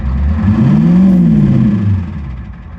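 A 1989 Ford F-350 pickup with a 7.3L IDI diesel engine, suffering throttle and fuel issues, revs up close and loud, its pitch rising then settling back down, holding at idle rather than cutting out, with no talking.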